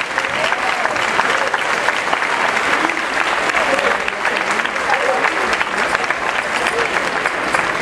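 Sustained audience applause at a Buenos Aires celebration of Portugal, greeting the fado group Ainda Fado from Mar del Plata; dense, steady clapping fills the room for the whole stretch, with faint voices mixed in.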